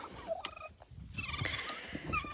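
Poultry on a farm calls close by in a short run of squawky clucking and gobble-like notes over a low, busy background, with no talking.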